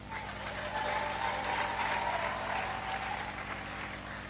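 A church congregation claps together at a Rwandan evangelical service, a steady, dense patter of applause holding at an even level throughout with a low hum beneath and no voices over it.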